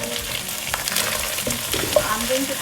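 Oil fries and spatters under a lid in a covered pan of chilli curry with ginger garlic paste, a close crackling sizzle with scattered pops and stirring clatter, busy and uneven throughout.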